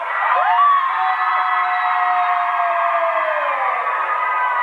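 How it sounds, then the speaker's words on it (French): Festival audience at the New Romance book festival cheering and whooping for an author, a sustained, bright roar of shouts and applause that holds steady for several seconds. "Je compte sur vous pour un tonnerre d'applaudissements pour Morgane."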